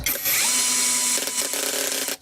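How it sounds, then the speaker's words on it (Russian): A Heimerdinger LB 176 brushless cordless drill-driver whirs at high speed, then its clutch ratchet slips into a rapid buzzing chatter, loud and close, stopping abruptly near the end. "На 10 у нас сработала трещотка."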